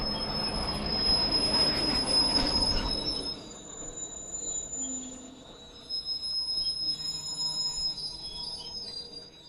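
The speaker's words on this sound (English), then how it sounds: "Talk about some squeaky brakes." Shrill, sustained squeal of a train's brakes at the back of a tourist railway train bound for the Grand Canyon from Williams, loudest at the start and then easing off, with low rumbling rail noise underneath and no talking.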